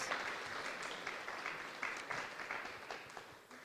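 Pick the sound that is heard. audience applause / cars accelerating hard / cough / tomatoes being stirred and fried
audience applause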